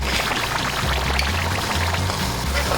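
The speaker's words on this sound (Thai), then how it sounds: "เดี๋ยวเราเทน้ำออกหน่อยหนึ่งดีกว่าน้ำเยอะไปนะ" Excess water pouring out of a pot of instant tom yum noodles, a steady close splashing stream lasting a few seconds, with no talk.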